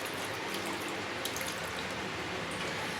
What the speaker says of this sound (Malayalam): തണുത്ത വെള്ളം ഒഴിച്ചു കൊടുക്കുക.